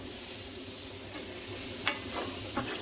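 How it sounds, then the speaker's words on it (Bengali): Potatoes and ridge gourd sizzling in hot oil with spices while being stirred, a steady close frying hiss with a few sharp scrapes of the spoon against the pan. "আলু দিয়ে মিশিয়ে নেব।"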